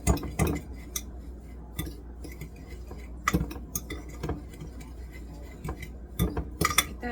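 A utensil stirs a seasoned mixture with salt and black pepper in a bowl, producing close, irregular clinks and taps against the side, some sharp and loud, others soft and scattered.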